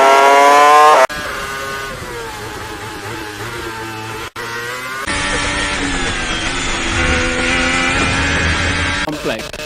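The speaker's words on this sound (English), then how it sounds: "he just flicks down a gear and nails the throttle" A Formula One car downshifts and accelerates at full throttle through a fast complex. The loud, close engine howl rises and falls with abrupt cuts, and a commentator talks over it.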